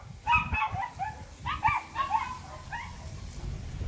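Dogs at a house yipping and barking in short, excited bursts, several calls overlapping at moderate distance over a low background rumble.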